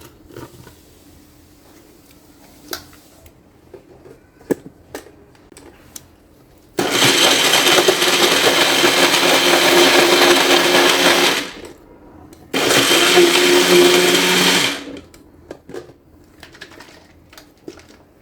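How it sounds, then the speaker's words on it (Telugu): Mixer grinder blending soaked chia seeds and rolled oats with water into a smoothie, running in two loud sustained bursts of about five and two seconds with a short pause between, then stopping. "వీటిని గ్రైండ్ చేసేసుకుందాం."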